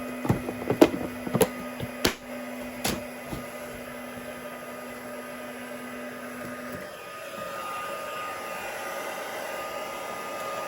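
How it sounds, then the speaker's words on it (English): Heat embossing tool warming up over a stamped card, a few sharp knocks and taps at first, then a steady breathy whir of hot air that rises slightly and continues to the end. "while I'm doing that, I'll just start to heat up my heat tool"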